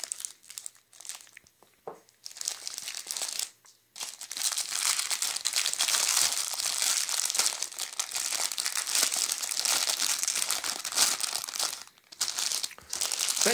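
A crinkly plastic wrapper on an Easter gingerbread bought in Ukraine is pulled open, with loud, continuous crackling and rustling close by, a brief quieter gap near the start, and no talking.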